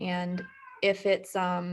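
A pet cat meows a couple of times, close and clear, mixed in with someone talking over it.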